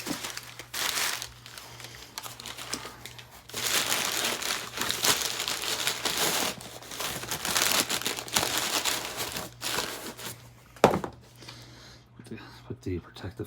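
A Japanese SACD of Billy Joel's Streetlife Serenade in its packaging is handled, giving repeated close, rustling crinkles in uneven bursts over a steady low hum, with a short sharp crackle near the end.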